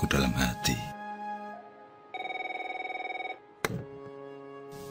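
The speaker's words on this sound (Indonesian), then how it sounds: "Telepon itu terus saja berdering." An office telephone rings with a single sustained electronic trill of about a second, set between louder bursts of other sound before and after.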